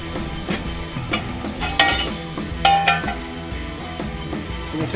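Steak bites frying in a pan with vegetable oil and pepper, a steady close sizzle broken by scraping stirs and a few metallic clinks of utensil against pan, no voices.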